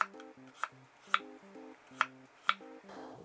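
A knife cuts food into thin slices about 2 mm apart, making crisp, evenly spaced taps against a cutting board while perilla leaf kimchi is prepared, with soft background music playing throughout.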